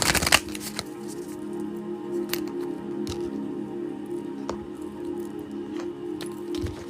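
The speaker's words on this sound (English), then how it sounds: "I'm going to finish shuffling" A deck of tarot cards is shuffled by hand close up, giving a continuous soft riffling and sliding texture with a sharper burst at the start and scattered light taps.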